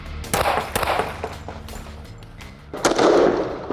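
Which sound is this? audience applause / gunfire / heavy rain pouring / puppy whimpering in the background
gunfire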